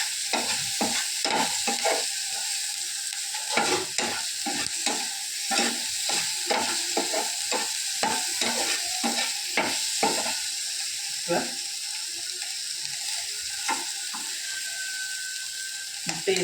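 Egg frying in a pan as it is stirred, with a steady sizzle and repeated clicking scrapes of a spatula against the pan at an irregular rhythm.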